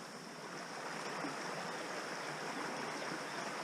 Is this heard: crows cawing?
no